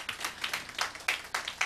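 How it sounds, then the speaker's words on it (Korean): A small crowd at a political party's founding rally in Daegu claps sparsely, with a thin, uneven scatter of individual hand claps at moderate volume. "박수 나야 될 것 같은데 여기서는"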